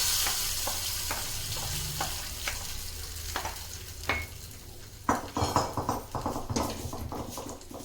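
Hot tempering poured into pineapple kulambu, a Mangalore-style curry, with a steady frying sizzle and scattered sharp spits and crackles that grow denser and louder toward the end, along with some clinks from the pan.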